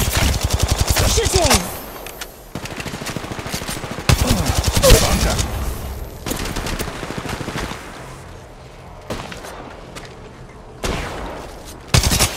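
Rapid automatic gunfire bursts from an Apex Legends match, loud and close, with several volleys separated by brief pauses and quieter stretches of game noise between them.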